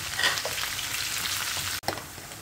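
Onion and garlic frying in a little hot oil, a loud dense close sizzle broken by a brief drop before resuming slightly quieter, with no talking.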